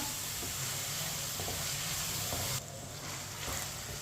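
Vermicelli mixed with vegetables sizzles as it cooks in a pan, a steady close hiss and crackle that drops slightly in level partway through and then carries on evenly.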